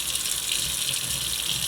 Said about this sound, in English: we're gonna go ahead and add some water here